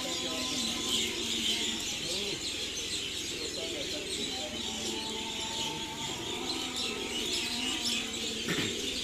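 Young racing pigeons land at a rooftop loft, with soft cooing and chirping calls scattered over steady background noise, fairly faint throughout.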